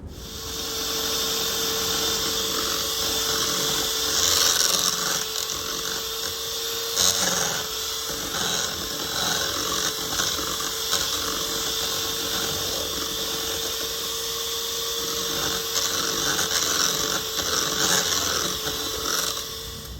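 Electric mixer beaters whip cream in a bowl, giving a continuous high motor whine with uneven rattling and slapping as the cream thickens, close and fairly loud throughout.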